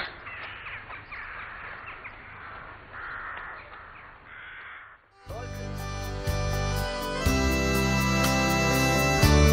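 Black crows caw several times outdoors over a steady background, then loud music abruptly takes over.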